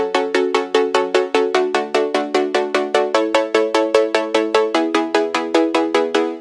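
A bright synth pluck patch built in Sylenth1 plays chords in a steady, even rhythm of short, crisp notes, close and alone with no voices.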